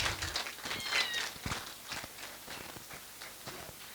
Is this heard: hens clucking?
no